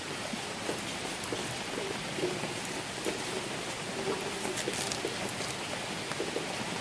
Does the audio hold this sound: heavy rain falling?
yes